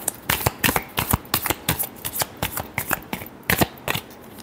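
Tarot cards being shuffled by hand, a rapid run of crisp riffling bursts in quick irregular rhythm, close and fairly loud, with no talk.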